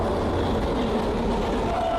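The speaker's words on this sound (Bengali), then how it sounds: "জেনারেল স্টেশন ঠিক এইভাবে ট্রেনগুলো দ্রুত গতিতে কাজ করে" On a rainy day the Saraighat Express rushes through a station at about 130 km/h, giving a dense, steady rumble of wheels and carriages that stays loud and unbroken throughout.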